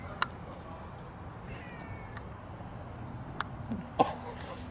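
A cat gives a short, faint meow over a steady background hum, with a few sharp clicks and a brief throaty sound close by toward the end.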